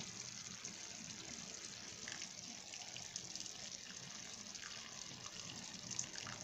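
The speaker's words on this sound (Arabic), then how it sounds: "وكنضيفو عليه الماء سخون" Hot water is poured onto a meat tagine as a steady, faint gush of flowing liquid that runs without a break and sits well back.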